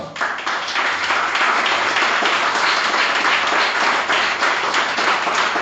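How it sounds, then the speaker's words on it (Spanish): Sustained applause from a church congregation, steady and dense clapping from many hands filling the room, loud and unbroken for several seconds with no talking over it. "A su nombre, denle un aplauso al Señor."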